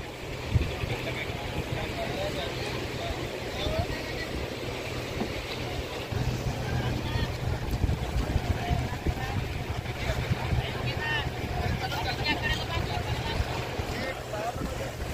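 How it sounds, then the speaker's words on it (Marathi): A fishing boat arrives and docks at Vadrai jetty. Its engine gives a steady low drone under wind and water noise, and a crowd murmurs faintly nearby. "बघा आणखी एक बोट आता जेटीला लागत आहे"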